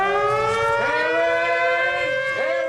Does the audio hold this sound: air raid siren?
yes